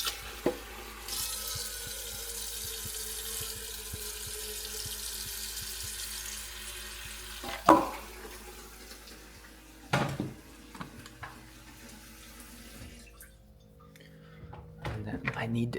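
Water running from a tap into a cooking pot, a steady hissing stream for several seconds, broken by a few clanks and knocks before it cuts off near the end.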